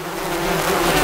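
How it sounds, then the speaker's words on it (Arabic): Bees buzz close by in a dense, steady drone that holds without a break and swells slightly toward the end. "نحل."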